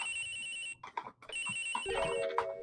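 A phone rings in the video game Ace Attorney Investigations: a bright electronic ringtone, loud and close, briefly broken by a short gap before it resumes.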